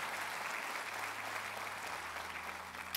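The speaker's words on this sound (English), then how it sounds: "Can we give a hand clap to the people that prayed that prayer today?" A church congregation applauds after a prayer, a steady wash of hand claps filling the room at a moderate distance with no one speaking over it.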